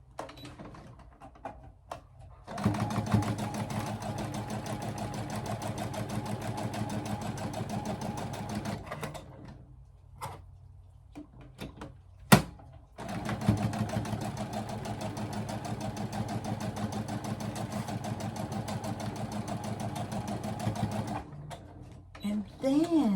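A sewing machine runs in two long steady bursts as quilt blocks are stitched together for a Wild West quilt pattern, its close, even motor hum and needle chatter broken by a short pause with a sharp click.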